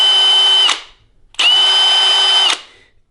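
A Milwaukee die grinder runs at full speed in two bursts of about a second each, with a steady high-pitched whine and a brief pause between them.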